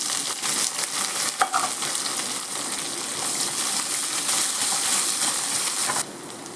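Steady crackling sizzle of onions frying in hot oil, close and continuous, with a brief clink partway through and a slight drop in level near the end.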